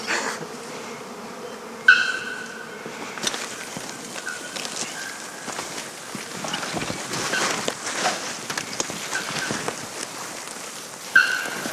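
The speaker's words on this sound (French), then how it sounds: "Ouais, ce sont des abeilles africaines." African bees swarming around trees in a tropical forest, a steady, dense insect hum close by with a few sharper passes, no talking over it.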